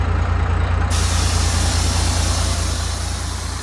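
A loud, steady hiss of air venting from a Cummins-powered ramp truck's rear air suspension as it kneels, over a low idling engine rumble.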